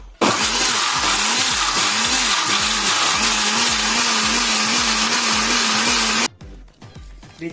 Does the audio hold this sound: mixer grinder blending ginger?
yes